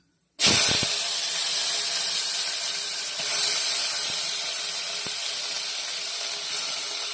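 Onions dropped into hot oil in a pan that already holds lightly browned dal, a sudden loud burst of sizzling that settles into a steady, hissing fry with a few faint knocks.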